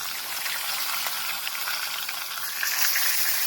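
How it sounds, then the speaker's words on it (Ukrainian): Oil sizzles steadily in a hot frying pan while cooking outdoors at a campsite, a continuous bright crackling hiss with no talking. "потрібно дати пательні розігрітись, потім туди додати олії, чи масло, чи на чому ви там смажите"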